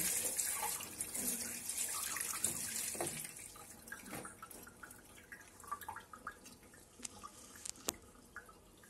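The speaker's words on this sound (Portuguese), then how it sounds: "Aí eu pego as folhinhas separadas, assim, ó, e vou lavando." Watercress leaves are rinsed by hand under a running tap, with faint steady water flow, splashing and dripping, close and quiet, with scattered sharper drips and handling sounds near the end.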